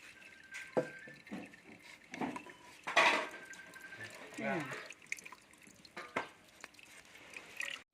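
Yanang leaf juice is poured into stir-fried pork belly in a pan, with close splashing, trickling liquid and clanks of a utensil against the pan while a voice talks over it.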